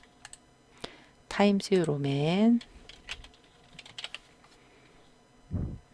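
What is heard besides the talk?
typing text on computer keyboard in Photoshop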